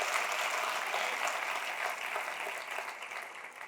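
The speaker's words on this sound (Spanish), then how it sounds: "Denle un aplauso al Rey bendito." A church congregation applauds at a Friday service, a dense, sustained wash of many hands clapping at moderate distance that fades slightly toward the end.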